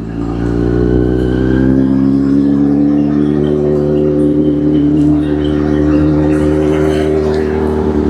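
A Kawasaki Z800 motorcycle engine, not yet fully warmed up, runs loud and close with a steady throaty drone whose pitch climbs gradually as it revs, continuous for about eight seconds.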